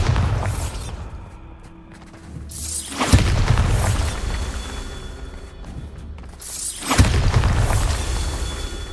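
Bombarda spell explosions in Hogwarts Legacy go off as two loud, deep booms, each with a sharp crack and a rumbling tail, separated by a quieter stretch of mechanical game sounds.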